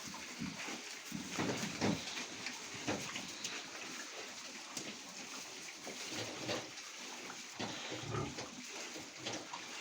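Pigs grunt and snuffle repeatedly at close range, a steady stream of low grunts with rustling, no voices.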